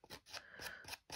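Scissors snip along the edge of paper in a Stampin' Up! craft project, giving four or five quick, crisp, close cuts in a steady rhythm.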